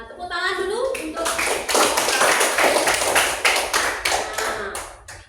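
Students clap in a classroom lesson after a group reads its findings, a brief voice followed by loud, rhythmic hand claps that carry on steadily to the end, close and strong.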